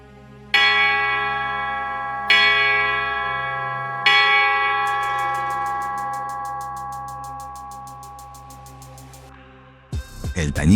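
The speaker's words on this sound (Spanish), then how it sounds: "El tañido de las campanas golpean sin cesar" Three loud church bell strikes ring out in turn, each decaying slowly, then a rapid run of lighter chimes joins before a sudden burst of noise at the end.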